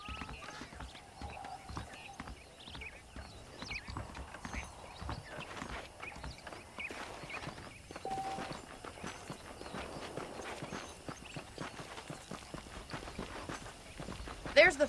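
Horse hooves clip-clop at a steady walking rhythm in the Western video game Red Dead Redemption, moderately quiet and continuous beneath intermittent game dialogue.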